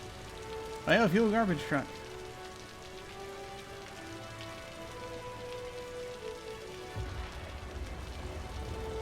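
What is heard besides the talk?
rain in Cities: Skylines, a video game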